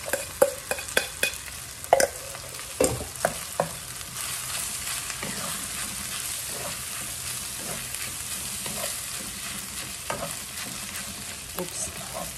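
Rice stir-fried with bacon and egg in a hot pan gives a steady, close sizzle, with sharp scraping clicks and stirring knocks early on, then a continuous frying hiss to the end.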